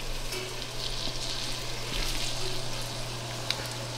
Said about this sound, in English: I'm going to let this simmer